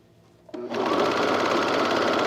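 A sewing machine stitches through thick layers of a raglan shirt's neckband, starting after a brief quiet moment and then running steadily and loudly close by.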